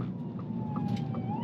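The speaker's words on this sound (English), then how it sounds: "cop with the siren passing us." A police siren passing, heard faintly in the distance from inside a Ford Lightning on a road trip, its tone rising and falling over a low, steady rumble of road noise.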